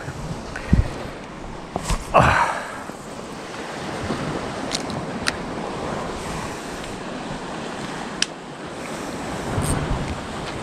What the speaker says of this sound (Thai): ทั้งคลื่นทั้งลมนะฮะ